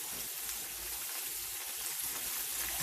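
Catfish and corn fritters frying in hot oil give a steady, even sizzle, constant and moderately loud with no voices over it.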